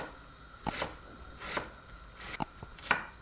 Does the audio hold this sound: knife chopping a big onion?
yes